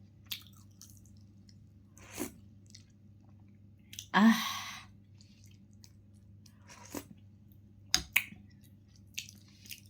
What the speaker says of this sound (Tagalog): Higop muna kita ng sabaw.